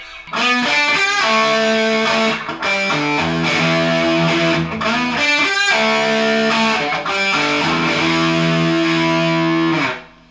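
Heavily distorted electric guitar runs through a full riff, chugging low notes and brief pauses between phrases, loud and up close, no talking.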